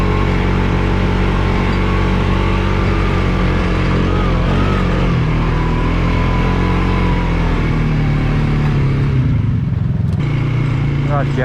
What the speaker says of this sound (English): my front rack zip tied to the back rack rattling around.